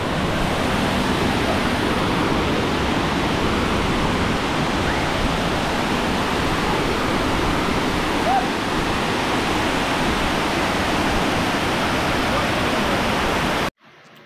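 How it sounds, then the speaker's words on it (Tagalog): Water cascading steadily over Wawa Dam, a loud, constant broadband roar that fills the scene from start to finish and cuts off abruptly at the very end. "Ayan yung bagsak ng tubig"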